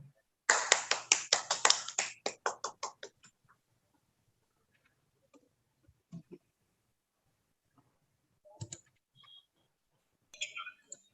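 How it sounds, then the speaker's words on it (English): Audience clapping at a school cabinet installation ceremony: a burst of rapid claps from about half a second that thins out and fades by around three seconds, followed by quiet with a few scattered faint sounds. "A big round of applause for all the captains."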